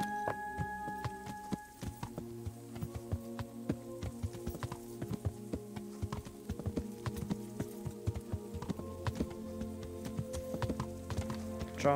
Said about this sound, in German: Wir steigen auf Pebbles und reiten gegen Ushiz